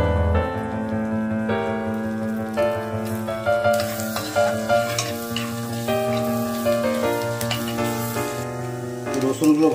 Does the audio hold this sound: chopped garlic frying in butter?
yes